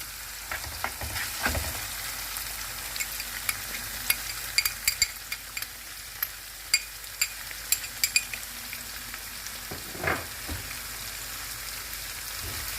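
Spinach fries with green chili paste in a pan for Lahori harissa, giving a steady close crackling sizzle broken by sharp pops and occasional stirring scrapes, with no talking.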